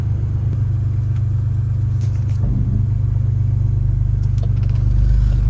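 A 3rd generation Toyota 4Runner drives along with a steady, loud low engine drone and road rumble, rising slightly toward the end, with no talking.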